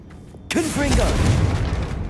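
A Confringo blasting spell from Hogwarts Legacy goes off with a sudden loud burst, then rumbles and crackles on for over a second, with brief voice-like tones near the start.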